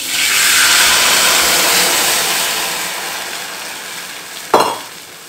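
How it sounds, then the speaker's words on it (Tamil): Tamarind water poured into a hot pan of tempered curry leaves for pepper gravy, a loud broad sizzle surging up at once and slowly easing, with a brief clatter near the end. "அந்த புளி ஜலம் இதில் விட்டுடலாம்."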